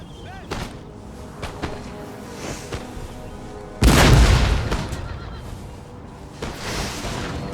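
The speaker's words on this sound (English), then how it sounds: "Keep up the pressure by firing your cannons at the enemy militia." Cannons firing on a battlefield in Empire: Total War, heavy booms landing at intervals with one loud blast partway through, plus faint horse neighs and distant battle noise, with no talk.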